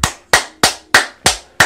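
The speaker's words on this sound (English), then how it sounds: "booty clapping sound" A booty clapping sound effect: six sharp, evenly spaced slaps about a third of a second apart, loud and close, each with a quick decaying tail.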